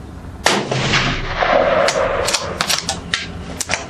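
A Browning A-Bolt .223 rifle fires one sharp, loud close shot, followed by a series of quieter metallic clicks and knocks, likely the bolt being worked, with no voices.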